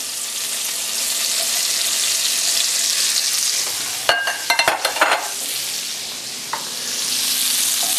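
Chopped garlic and onion sizzle in a pan with a steady, close frying hiss, broken midway by a short burst of scraping and clattering stirring strokes before the sizzle settles again.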